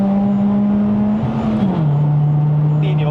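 Mitsubishi Lancer Sportback with a 2.4L engine and five-speed manual pulls hard on a mountain road in Malaysia, a loud, steady engine drone that rises in pitch, dips briefly as if through a gear change, then settles into a lower hum.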